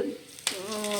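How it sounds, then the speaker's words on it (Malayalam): Batter for kalthappam poured into a hot pan, a close, soft crackling sizzle that sharpens at the pour and then settles into a steady hiss. "അപ്പോൾ ചട്ടി ചൂടായി വന്നിട്ടുണ്ട് നമുക്കതിലേക്ക് കൂട്ടൊഴിച്ച് കൊടുക്കാം"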